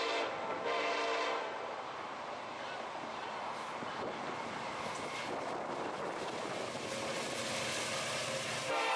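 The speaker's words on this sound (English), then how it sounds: "train movement regularly passed through the site" A train rumbles steadily along mainline tracks past a railway repair site with a continuous roar and a horn sounding, heard from a moderate distance with faint voices mixed in.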